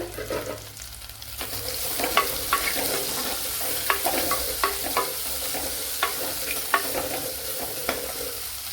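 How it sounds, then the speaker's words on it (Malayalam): Sliced onion sautéing in a pan with garlic and ginger, a loud continuous sizzle broken by regular scraping and tapping strokes of a stirring spoon. "ഇതിലേക്ക് ചെറിയൊരു സവാള ഇതുപോലെ കട്ട് ചെയ്ത് ചേർത്ത് കൊടുക്കുക."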